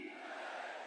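A crowd roars a slogan for Chhatrapati Shivaji Maharaj in response to a leader at a public rally in Phaltan, where development works are being inaugurated. The mass shout is loud and sustained, filling the full second without a break.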